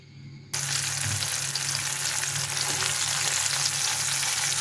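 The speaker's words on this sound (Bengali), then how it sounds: "আমি চিকেনটা গরম তেলে দিয়ে দিয়েছি, বাদামি রং করে ভেজে নেব।" Chicken coated in cornflour and flour frying in hot oil: a loud, steady crackling sizzle that starts abruptly after a short quiet moment and continues unbroken.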